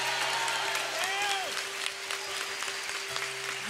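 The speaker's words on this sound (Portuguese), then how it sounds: "dá um glória para me ouvir e aplaude" A Catholic congregation in a church near Curitiba applauds loudly and continuously, a thick roar of clapping mixed with shouts and crowd voices.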